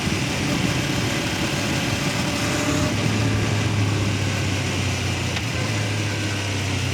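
A 2021 Yamaha MT-25 motorcycle on a test ride: a steady, close engine drone with broadband wind rush, a low hum settling in partway through.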